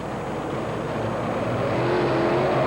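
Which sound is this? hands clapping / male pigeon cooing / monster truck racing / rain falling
monster truck racing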